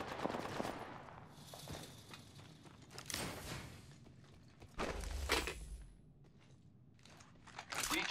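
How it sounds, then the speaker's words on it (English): Enemy gunfire in Apex Legends, arriving as scattered bursts of shots with footstep-like crunches, moderately loud amid busy game noise and no talking. "The enemies are shooting at me."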